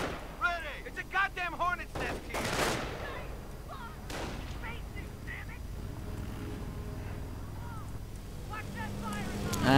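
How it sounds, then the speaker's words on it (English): Gunfire crackles from a strafing run in a strategy game, bursts of shots and a couple of sharp blasts beneath a commentator's continuous talk. "And another strafing run right through the everything, spotting the force"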